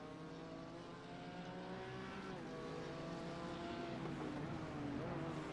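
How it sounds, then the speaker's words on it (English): GT3 race cars head onto the track at Daytona, their engines droning with steady rising and falling tones, held back at a moderate distance. "GT3s getting on track here"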